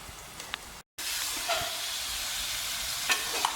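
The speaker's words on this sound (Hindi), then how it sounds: "साथ ही हम ये चिकन डाल रहे हैं।" Chicken pieces land in a pan of red curry gravy, setting off a steady, loud sizzle and hiss close up, with a few scraping stirs after a brief cut at the start, and no voices.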